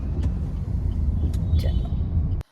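Road traffic in a busy village, a steady low rumble of passing vehicles with a few faint higher noises over it, ending abruptly.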